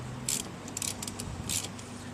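A ratchet spins a 13mm nut loose on a Saab 9-3 in a few quick bursts of clicking, close and fairly quiet, separated by short pauses.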